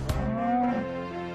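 Steers or other farm cattle give one drawn-out moo, starting with a brief rough burst and settling into a sustained tonal low that trails off, close and fairly loud, with no voices over it.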